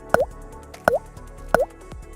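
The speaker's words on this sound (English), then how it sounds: "Simply add the cleaner to your gas tank" Three distinct liquid plops, evenly spaced, as catalytic converter cleaner is poured into a car's gas tank, close and clear against a quiet background.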